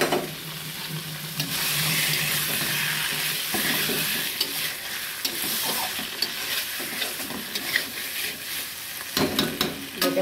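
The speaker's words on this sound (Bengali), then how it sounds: "তো আমি এবার টমেটো বাটাটা দেখো দিয়ে দিচ্ছি।" Tomato paste hits hot oil in a frying pan and sizzles loudly and steadily while being stirred, with scraping strokes of a spatula growing more frequent toward the end, for a vegetarian banana-flower dhoka curry; no voices.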